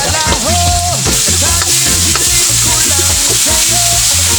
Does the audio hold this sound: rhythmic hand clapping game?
no